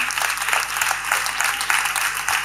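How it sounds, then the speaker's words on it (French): A crowd applauds steadily at a political party's New Year speech, dense clapping from many hands filling the space with an even, sustained roar. "Vous pouvez vous applaudir parce que c'est votre travail."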